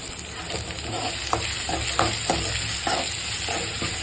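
Onion and garlic sauté in oil for pakkoda kurma, with an even background sizzle punctuated by several short, sharp spoon scrapes against the pan.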